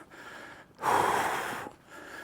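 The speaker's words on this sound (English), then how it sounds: "It's the heavy breathing because I'm going uphill" Heavy breathing from a hiker climbing uphill on a wet mountain route: one long, loud, rasping exhale fills the middle of the clip, with fainter breaths before and after.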